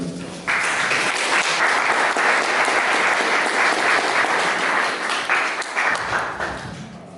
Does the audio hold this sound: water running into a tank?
no